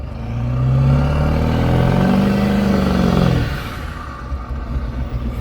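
A diesel pickup truck with a possible misfire revs hard up and back down, close and loud with a rough, clattering edge, then settles into a lower idle rumble.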